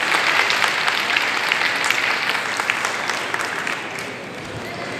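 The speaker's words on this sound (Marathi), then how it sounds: "आपणही सर्वांनी जोरदार टाळ्या वाजवून" An audience at an indoor hall event marking the Kalaram temple satyagraha anniversary claps loudly and steadily, the applause fading slightly toward the end.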